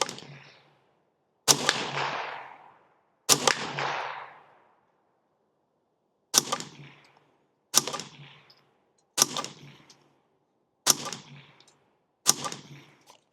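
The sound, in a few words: Derya TM22 .22 LR rifle shots hitting steel target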